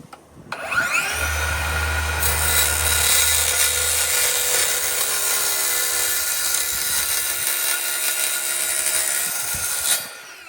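A power saw cuts through a 1/8 inch aluminum sheet meant for a wind fairing, a loud continuous high whine that runs for about nine seconds, with a low hum at the start, then stops abruptly.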